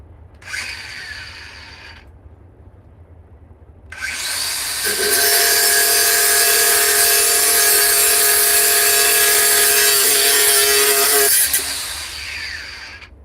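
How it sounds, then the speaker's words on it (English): A DeWalt FlexVolt 418 cordless 9 amp grinder whirs briefly, stops, then runs up to a loud steady high-pitched whine for about seven seconds before spinning down. "let me try the 418 again. And the battery's still fully charged. This is a 9 amp flex volt"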